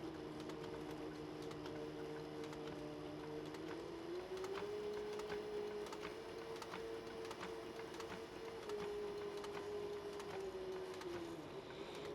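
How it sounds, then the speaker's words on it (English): Sewing machine stitching straight across a cross-body sling bag, a steady continuous motor whir with a hum that shifts slightly in pitch partway through, running without pause and no talking. "now I'm just going to sew all the way across all that"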